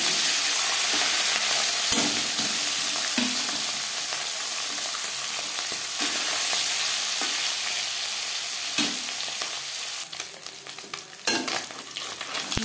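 Small fish frying in four spoons of hot refined oil for a Bengali radish fry, a steady loud sizzle with occasional sharper crackles and spatters, no voices.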